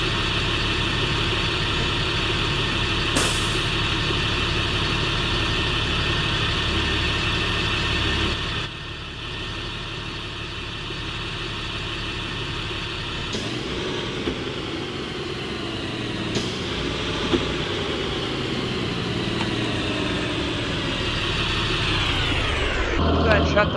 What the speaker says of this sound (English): But here's a shot of your Cat C7 engine.